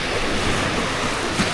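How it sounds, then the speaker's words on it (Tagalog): Strong sea waves at a beach in MacArthur Park, Palo, as a steady loud wash of surf with wind buffeting the microphone, continuous and close, with no voices. "Dito kasi, paiba-iba yung lakas ng alon."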